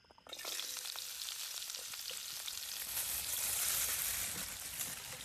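Masala for a fish curry sizzles loudly in a hot pan, a dense steady fry that starts abruptly and builds slightly, with occasional stirring scrapes and no talk.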